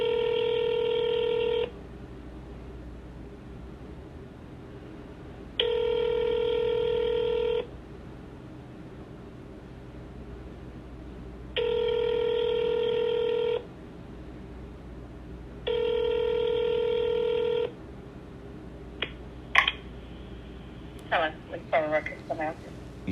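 Telephone transfer tones on hold with a police department records line: four evenly spaced repeating tone bursts with pauses between them, followed by faint clicks and line noise.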